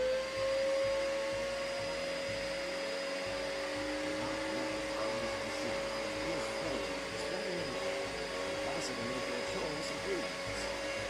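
A vacuum cleaner, advertised as the Vacuum Suck Dust Star 5000, runs steadily with a constant high motor whine and airy rush, close and continuous, with faint talking underneath.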